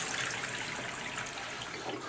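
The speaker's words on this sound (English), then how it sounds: "Put it underneath the cold tap, simply because I can't bear the hot water now." Cold water runs steadily from a tap in a garden setting, a continuous broadband splashing rush that stays loud and even throughout, with no voices.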